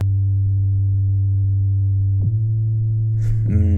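Simple synth music with sustained electronic tones, a low drone that shifts pitch, and a brighter burst of notes near the end.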